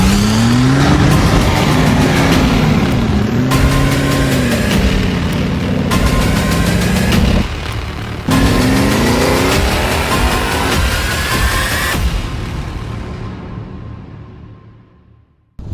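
Heavily modified Toyota FJ Cruiser built for off-roading, its engine roaring and revving loudly close by with rising and falling pitch sweeps, a few sharp cuts between bursts, then fading out near the end.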